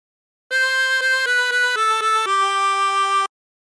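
A harmonica plays a phrase from La Cucaracha, a clean sequence of about seven reedy notes that step downward, the last held longer, alone with no talking.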